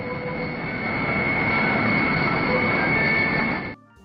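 A jet aircraft makes a catapult takeoff from an aircraft carrier, a loud, close, sustained engine roar with a high whine that swells and then cuts off abruptly near the end.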